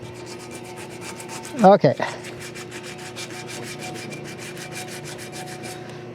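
Sandpaper rubs a bicycle seatpost in a workshop, a steady close scratchy sanding stroke throughout with a few louder scrapes near the start; a single word is spoken briefly.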